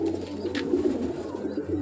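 Pigeons coo softly and continuously in a low warbling murmur, close by, with a faint higher bird chirp briefly over it.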